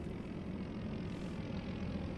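A propeller airplane flies outside near a remote island in the Jurassic Revival game, a faint, steady low drone with no breaks.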